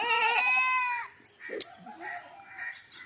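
A goat lets out one loud, wavering bleat up close on a goat farm, followed by softer animal noises and faint clucking nearby.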